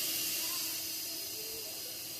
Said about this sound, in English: I'm going to go ahead and steam that right now. It's the steam mode or vent mode.